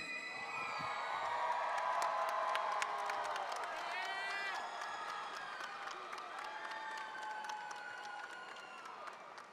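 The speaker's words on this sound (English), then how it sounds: "give a big red cheer for our valedictorian, Miss Nora Katir" A high school graduation crowd claps and cheers for the valedictorian, a broad, distant roar of applause with scattered whoops and shouts carrying over it for several seconds, fairly faint and reverberant.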